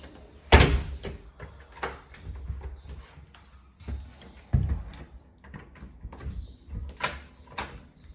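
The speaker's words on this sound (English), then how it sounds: "This door next to the bath" A door beside the bathroom of a bedroom, leading outdoors, in a home at 4334-38 Cherokee Avenue, opens with a loud close knock followed by a few softer thumps and clunks, including another solid bump midway, in an otherwise quiet room.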